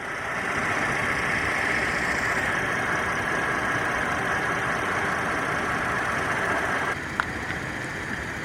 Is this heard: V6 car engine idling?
yes